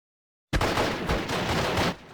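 After a half-second of silence, a dense volley of infantry rifle and machine-gun fire from the WWII strategy game Steel Division: Normandy 44 rattles on steadily, then fades at the end.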